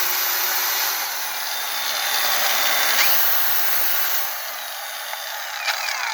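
A Forte AG-21BC 700 W cordless angle grinder cutting, giving a steady, close, high-pitched whirring grind that dips slightly near the end, with no talking.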